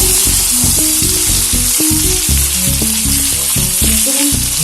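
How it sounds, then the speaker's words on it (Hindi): Stuffed okra (bhindi) frying in a pan over a low gas flame, a steady close sizzle with a rhythmic pattern of stirring or tapping throughout, no voices. "बाद मैं इसमें सारी ये भिंडी जो है सारे गैस की आंच है हमने कम स्टीम में कर रखा है और इसमें से पकाऊंगी।"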